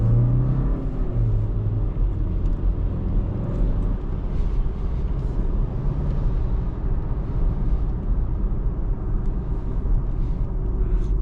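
A 2026 Kia Sportage 1.6 T-GDI AWD 180 hp driving through city streets, heard from inside as a steady low engine and road rumble that continues evenly and moderately loud throughout, with no talking.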